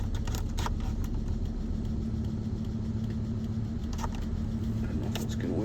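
Volvo T5R car engine idling with its erratic cooling fan, a steady low rumble and mechanical hum under faint intermittent ticks and clatter, close and continuous with no talking.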